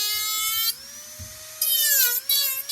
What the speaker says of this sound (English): you want to use the tungsten carbide bit because it could take a lot of material out much faster than any other bit